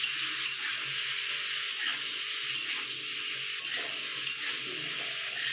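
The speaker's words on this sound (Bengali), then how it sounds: "হলুদটা ভালো করে মিশিয়ে নেব।" A spoon scrapes and taps rhythmically through capsicum sabzi in a pan as turmeric is stirred in, a soft sizzle running beneath the regular strokes.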